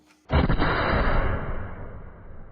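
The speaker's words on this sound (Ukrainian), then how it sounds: "Постріл!" A single massive artillery blast booms close by, its heavy roar rumbling and slowly fading over a couple of seconds.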